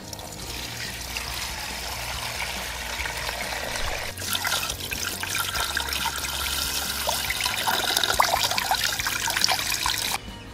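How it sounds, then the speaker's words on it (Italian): Water poured into a bucket, a steady rushing splash that continues throughout, changing character partway as the pour goes on, loud and near with no talking. "adesso vado a prendere dell'acqua e la verserò dentro il secchio"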